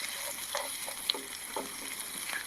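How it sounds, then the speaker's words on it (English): Beans fry in butter left over from steak at a camp stove, a faint, soft sizzle with scattered small pops and crackles. "Fry them up in some butter that's left over from the steak."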